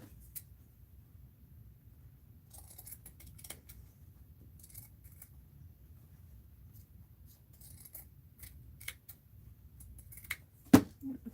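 Scissors snip through white carpet tape in a few sparse, quiet crisp cuts and small clicks spread over a near-silent stretch, ending with one sharper, louder snip close by.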